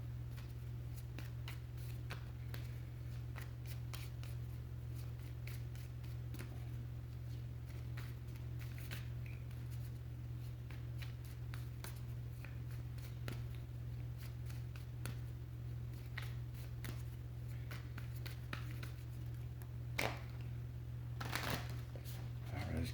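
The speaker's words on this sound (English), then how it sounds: "let's get one more shuffle in now." Tarot cards shuffled by hand during a reading, a steady run of soft riffling and flicking close to the microphone, set over a constant low hum with no talking.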